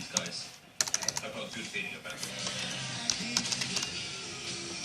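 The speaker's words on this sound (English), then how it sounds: "you type the command change context" Computer keyboard keys typed in quick irregular bursts while entering a Red Hat Linux command, close and clear with some soft background noise.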